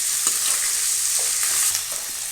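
Onions fry in a pan for potato masala with a loud, close, continuous sizzle and a few faint stirring scrapes, heard without speech.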